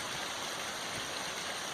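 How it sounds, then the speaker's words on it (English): Small waterfall spilling in a creek at Nelder Grove among giant sequoias: a steady, dense rushing hiss of falling water, continuous and fairly soft, with no voices. "Got a little mini waterfall"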